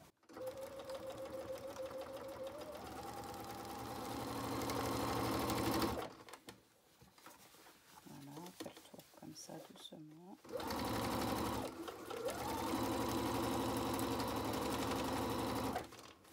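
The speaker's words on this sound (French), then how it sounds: "Nous avons cousu le haut de la pochette, incluant donc doublure, pochette extérieure et le rabat." Sewing machine stitching the top of a fabric mask pouch through lining and flap: fast steady motor whirr in long runs, stopping briefly midway while someone talks, then resuming loudly.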